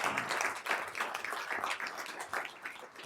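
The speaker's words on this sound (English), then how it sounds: "So give them another round of applause" An audience in a school board meeting boardroom claps for visiting children, a fairly quiet, continuous patter of many hands with uneven bursts, heard on its own without speech.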